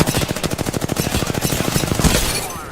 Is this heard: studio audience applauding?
no